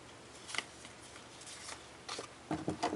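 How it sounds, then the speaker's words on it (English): Scissors trimming the paper edges of a lavender card tag, a few quiet, close snips and rustles, with the last cuts clustered near the end. "and then I'll just trim the edges."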